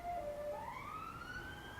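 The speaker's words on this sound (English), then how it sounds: "Got some sirens going." Emergency vehicle sirens wail in a London street, a single rising tone sweeping upward over steady distant city rumble, fairly faint and with no talking.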